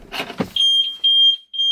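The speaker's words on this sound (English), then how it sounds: "the alarm did sound straight away" A Tesla Model S alarm, set off by Sentry Mode when a door is opened, blares a loud, steady high-pitched tone in long repeated pulses right after a brief moment of talking.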